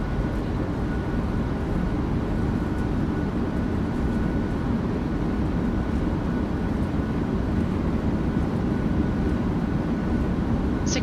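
Boeing 737 engines roar at steady high thrust as the reversers deploy during the landing roll in a flight simulator, a dense continuous rumble throughout with no voices.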